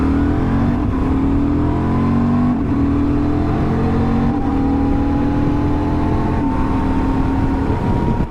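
Cars and vehicle engines pass along a road beside a stopped Honda Transalp XL750 motorcycle, a loud steady drone with rising engine pitch and repeated whooshes as each vehicle goes by.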